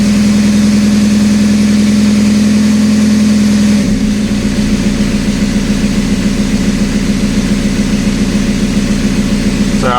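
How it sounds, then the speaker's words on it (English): Car engine running steadily with a strong low hum for about four seconds, then revving and turning over with a faster, rougher pulsing that continues loud and close to the end. "you can rev it up and it doesn't move for the same amount of time"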